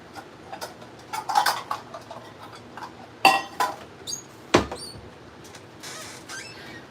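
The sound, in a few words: grabbing a bowl in the kitchen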